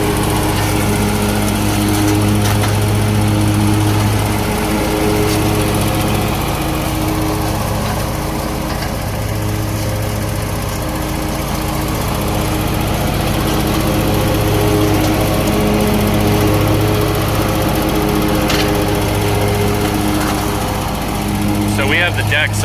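Brush mower with decks raised and old blades, cutting through brush in a yearly mowing, a loud continuous engine drone with a steady rhythmic pulse, close by and alone.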